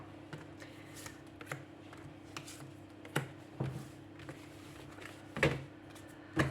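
Tarot cards being shuffled for a reading, soft papery riffles and taps at irregular intervals over a low steady hum, quiet and close with no talking.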